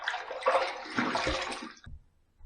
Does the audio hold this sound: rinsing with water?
yes